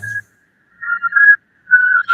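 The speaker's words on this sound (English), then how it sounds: "already we're bringing back the whistle tones, the whistle hooks rather" A whistle hook in a song, a clear whistled melody in short phrases of two or three notes, bright and upfront with no other sound around it.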